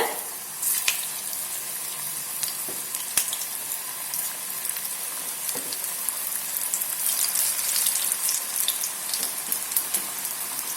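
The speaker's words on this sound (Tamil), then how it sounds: "இப்ப எண்ணெய் நல்லா சூடாயிடுச்சு. இப்ப நம்ம இந்த ப்ரிப்பேர் பண்ணி வச்சிருந்ததை போட்டலாம்." Green peas vadai dough frying in hot oil, a steady loud sizzle and crackle running throughout with small pops, close and continuous, no talk over it.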